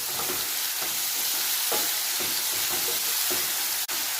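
Salted dudhi bataka shaak, a bottle gourd and potato curry, stirred in a hot pan, with a steady sizzle broken by several soft scraping strokes and one sharp click near the end.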